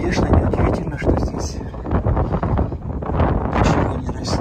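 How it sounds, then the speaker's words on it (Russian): Strong gusting wind buffets the microphone along a rough highway route through the Kazakh steppe, a loud continuous low rumble and roar with surging pulses throughout. "только ветер просто какой-то невероятной силы"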